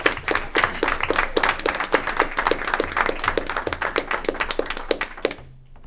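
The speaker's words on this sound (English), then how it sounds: "I think one more round of applause." A small group at a school committee meeting gives a round of applause, with steady, crisp clapping carrying on for several seconds close by before it trails off at the end.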